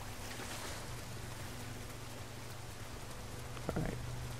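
A waterfall rushes in the video game Nioh as a steady, moderately loud broadband roar, with a brief low thump near the end.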